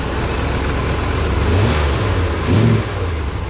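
A 1987 Ford Bronco engine runs rough and steady, then surges in a brief rev near the end with a low throbbing tone, close by and with no talking.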